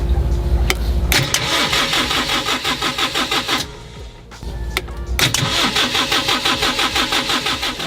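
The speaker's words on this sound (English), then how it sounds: "Okay, so I got it all primed. Let's start it, see how it does." A dinghy outboard engine, freshly fuel-primed, catches after a brief crank and runs loudly up close, its rapid mid-pitched putter steady apart from a short dip midway before picking back up.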